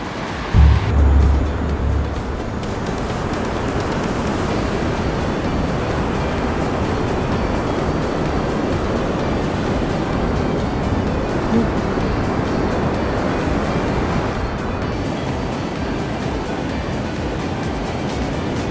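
Rushing water pours steadily at the Pool on Fern Lake Trail in Rocky Mountain National Park, a loud, continuous roar of a mountain stream close by, unbroken for the whole stretch.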